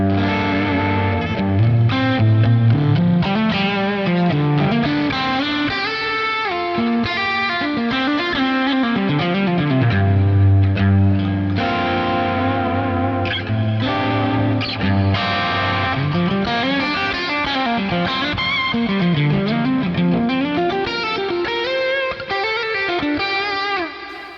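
A heavily distorted electric guitar tone from the Helix Native amp-modeling plugin, loud and continuous, with sustained chords and bending lead lines under chorus and reverb, no voices.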